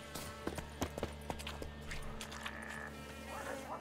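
Horse hooves clip-clop in a quick, uneven rhythm in The Witcher 3: Wild Hunt, faint and mid-distance, over a steady low drone and soft game ambience.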